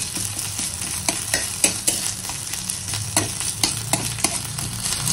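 Ginger sizzles in hot oil in a pan as a spoon stirs it, a steady crackling fry broken by frequent light scraping clicks, close and clear with no talking.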